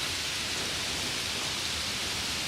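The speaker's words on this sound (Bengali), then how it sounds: "ইস, আবারও বৃষ্টি শুরু হয়ে এলো।" Cartoon rain pours down as a dense, even hiss of constant loudness, with no voices over it.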